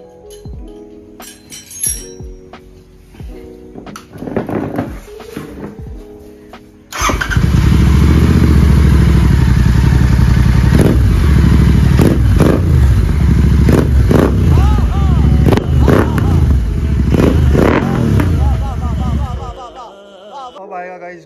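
Royal Enfield GT650 fitted with a Red Rooster exhaust, dB killer removed: after some clinking and handling sounds the parallel-twin engine starts and idles loud and close with a deep, throbbing rumble and a few blips of throttle.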